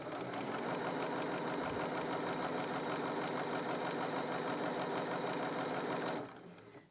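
A Bernina 325 sewing machine runs steadily at close range, a dense rapid mechanical whirr of stitching bar tacks that holds for several seconds before winding down and stopping.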